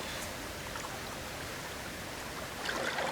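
Lilly River in Langlade County, Wisconsin, flowing as a steady, broadband rush of water heard close by, with no voices; the wash swells slightly louder near the end.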